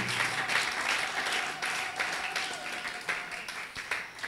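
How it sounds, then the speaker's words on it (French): A church congregation applauds together, a dense, sustained wash of clapping that swells and dips slightly over a few seconds without pause. "Acclamons pour la gloire de notre Dieu"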